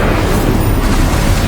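A loud, dense whooshing burst of the Incendio fire spell in Hogwarts Legacy, a sustained roaring blast of flame that fills the whole moment.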